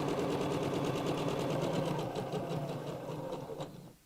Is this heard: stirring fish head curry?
no